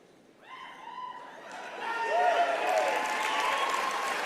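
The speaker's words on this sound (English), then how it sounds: "He really just loves people clapping for him." A crowd at a political party event applauds for Justin Trudeau, the clapping rising from a faint start into a broad, sustained wash with some cheering toward the end.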